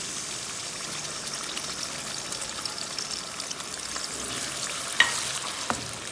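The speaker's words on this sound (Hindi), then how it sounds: "घी इसमें मैंने डाल दिया था। अभी डालने लगेंगे अदरक, लहसुन और सब्ज़ मिर्ची।" Steady sizzling of ginger, garlic and green chilies frying in hot ghee, a continuous crackle with a few sharper pops near the end, no voices.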